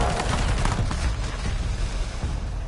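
Heavy .50 cal fire in Warzone, a dense, continuous barrage of booming shots, loud and close from start to finish.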